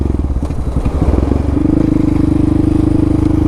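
Yamaha Raptor 700 ATV with a Dasa exhaust pipe and EHS tune, ridden in fourth gear on trails: a loud, close, steady engine drone that starts choppy and uneven, then settles into a sustained even pulse.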